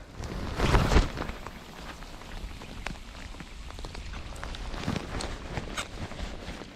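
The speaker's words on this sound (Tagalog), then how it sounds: "Lakas ang ulan." Heavy rain falls during a bass and salmon fishing trip, a steady dense patter of drops with a louder burst near the start and a few sharper nearby hits throughout.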